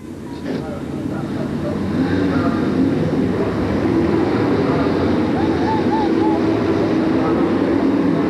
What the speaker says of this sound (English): The engines are fired, the field now rolls away